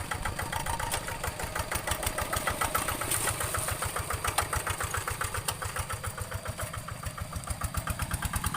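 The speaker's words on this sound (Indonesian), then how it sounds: "jadi seperti itu proses menurunkan mesin traktor." Hand tractor engine chugging steadily while plowing a rice field, a single-cylinder putter with a fast, regular pulse that stays close and continuous throughout with no talk.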